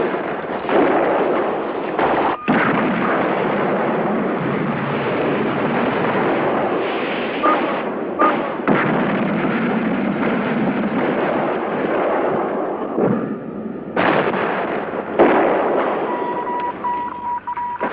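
Heavy artillery fire from the Guinea-Bissau war, at Guileje and Gadamael, comes as a dense, continuous rumble of blasts with a few sharp individual cracks. The sound is loud and muffled, as if from old field recordings.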